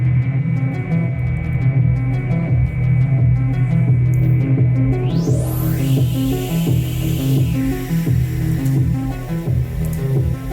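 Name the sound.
modular synthesizer metallic noisy tones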